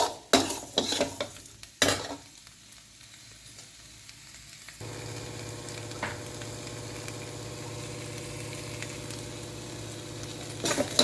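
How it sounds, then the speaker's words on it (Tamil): Potatoes sizzle and fry in masala for sambar while being stirred. Several sharp utensil clacks against the pan come first, then a steady close frying hiss with a final scrape, and no one speaks. "கொஞ்ச நேரம் இந்த மசாலாவிலேயே இருக்கட்டும் ஒரு ரெண்டு நிமிஷம்"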